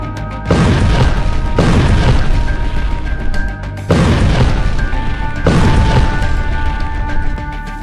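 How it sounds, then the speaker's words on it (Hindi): Tanks blown up during fighting in Gaza produce loud repeated booms, four heavy blasts at roughly even intervals, each followed by a sustained rumbling roar close at hand. "हमास ने फोड़ दिए टैंक"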